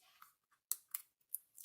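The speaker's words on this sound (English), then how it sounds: "Now I'm going to take off the backing of the double-sided tape of number 2." Backing being peeled off double-sided tape while making an accordion mini journal, heard as a few quiet, close crackling rips and ticks in short separate bursts with silent gaps between.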